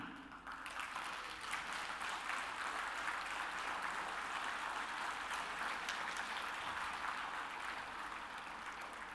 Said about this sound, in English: And that's a big round of applause, ladies and gentlemen, for all of us